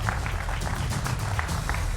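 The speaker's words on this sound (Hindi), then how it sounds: "तो जोरदार तालियों से सब मेहमानों का स्वागत करिए।" Applause welcoming guests on a Hindi TV news debate panel, heard as a steady, faint wash of many hands clapping at a distance with no voices over it.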